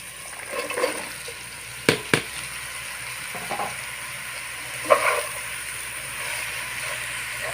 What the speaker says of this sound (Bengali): এর মধ্যে আমি লাউগুলো দিয়ে দেবো